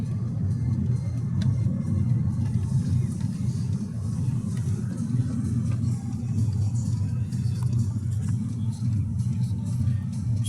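A Skoda Octavia 1.8 TSI runs on petrol, its engine and road noise forming a steady, close, low rumble that holds evenly throughout with no clear revving peaks.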